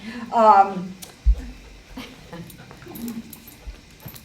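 An excited dog in a volunteer training session gives a high whimpering yip, followed by a thump and softer whines with a person talking over them.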